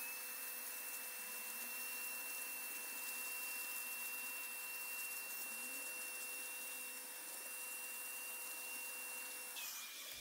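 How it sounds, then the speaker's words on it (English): A Shop-Vac wet vacuum extracts excess peroxide solution from a cowhide rug, giving a steady, close motor whine and suction hiss that runs unbroken and level throughout. "I'm going to use my Shopvac to extract it out"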